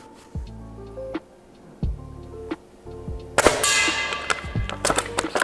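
Airsoft sniper rifles, an SSG10 and an AS-01, firing at metal targets about 50 feet away: soft pops each followed by a ringing metallic clang, repeated several times, with a louder, busier stretch of hits near the end.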